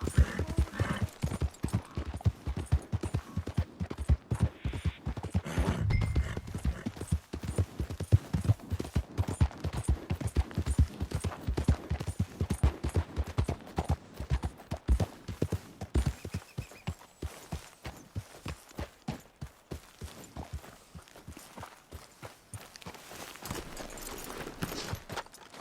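Horse hooves clip-clop steadily in Red Dead Redemption 2, a continuous rhythmic trot of sharp hoof strikes at moderate distance that thins out and slows toward the end.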